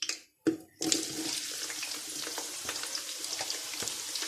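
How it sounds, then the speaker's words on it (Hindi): Onions drop into hot oil for mutton haleem, and after a short gap a close, steady sizzle with faint crackles and stirring clatter follows. "ऑयल गर्म हो चुका है, मैं इसमें डाल दूंगी प्याज"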